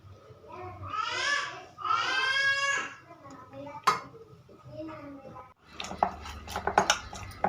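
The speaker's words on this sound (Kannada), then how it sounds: "ಎಣ್ಣೆ ಹಾಕ್ಬಿಟ್ಟು ತಟ್ಟೆ ಮುಚ್ಚಿಡ್ತೀನಿ" A plate is set over a pot after oil is added while making tur dal obbattu in a home kitchen: after a stretch of talking comes a sharp single clink, then a burst of close, rattling metal clatter.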